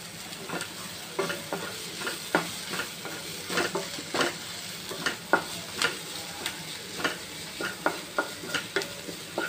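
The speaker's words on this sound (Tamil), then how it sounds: "நல்லா வதக்கி விட்டுக்கலாம் நல்லா வதங்கிடுச்சு இப்போ நம்ம பச்சை மிளகாவை போட்டுக்கலாம்" Onions sautéed in a pan for chana masala before green chillies go in: a steady sizzle of frying under repeated scraping strokes of a spoon, close and continuous, with no talk.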